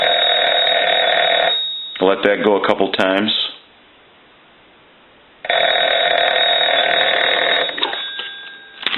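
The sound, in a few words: repaired field telephone bell ringing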